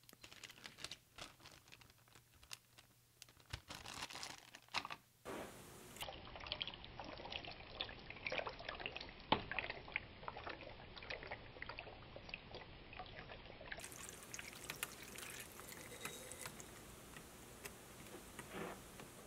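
Water poured over a 1STPLAYER Firerose MK3 RGB mechanical keyboard during a water test: faint, continuous trickling and splashing follows some light clicks and taps, with no talking.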